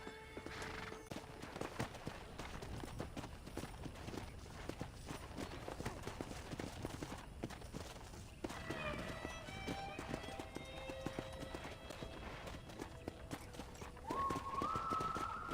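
Horse hooves galloping in the Red Dead Redemption video game, rapid rhythmic clip-clop beats under game music and ambient sounds, with a brief whinny and tonal musical notes later on.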